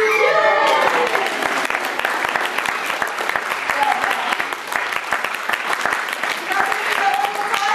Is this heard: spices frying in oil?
no